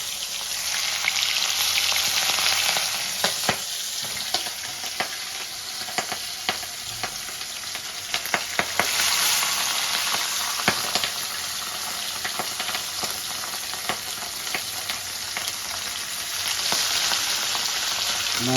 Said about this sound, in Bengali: আমি মাছগুলো কচি কচি লাল লাল করে ভেজে দেবো